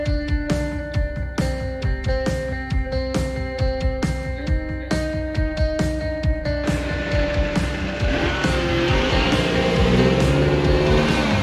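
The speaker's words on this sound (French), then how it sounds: "Le monsieur en voiture, il s'arrête parce qu'il me voit filmer." A car engine hums nearby with a regular ticking beat, then gives way to a broader rushing road noise as the vehicle slows.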